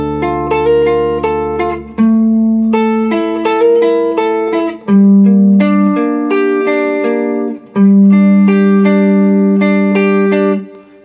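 Electric guitar in drop D tuning plays the verse riff of a song, clear and loud, with a low open note and ringing single-note lines, with slides and repeated phrases over about ten seconds.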